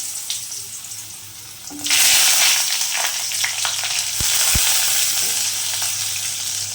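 Potatoes dropped into hot oil with panch phoron and dried chilli for a wedding-style shukto burst into a loud, steady sizzle after a quieter start, with a few clinks of a utensil.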